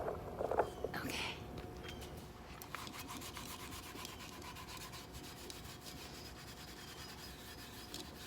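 Steady scrubbing of loose rust off a cast iron pan with water, a continuous close rasping rub that stays fairly even throughout.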